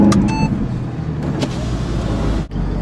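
A 2014 Mercedes SLS AMG Black Series on the track at Willow Springs, its engine a loud, close, continuous roar with brief shifts in pitch and a short dip near the end.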